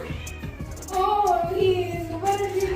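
A house cat meows loudly and close by in a home kitchen, several drawn-out rising cries in a row, with some background household noise.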